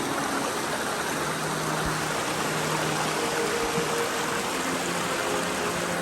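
Baker Creek, a cold, clear mountain stream in Great Basin National Park, rushes with a steady, dense wash of flowing water, close and constant with no voices.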